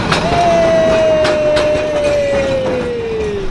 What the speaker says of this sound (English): Oh, look at the tram.